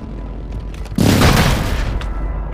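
An airstrike in a mobile battle royale shooter lands as one heavy, deep boom a second in, rolling and rumbling for about a second before fading into a steady background roar.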